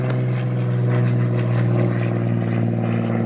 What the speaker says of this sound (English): The twin engine planes, the little or small engine planes, they're awesome, aren't they?